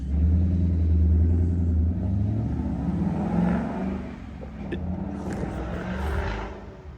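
A Ford Mustang drives by on a country road beside woodland, its deep engine rumble loud and close at first, then gradually fading as it moves away.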